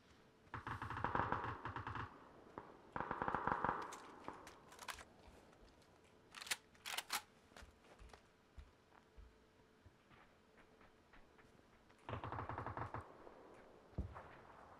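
Bursts of rapid automatic gunfire alternate with single sharp shots and clicks, loud and close, with quieter gaps between volleys, in the video game PUBG.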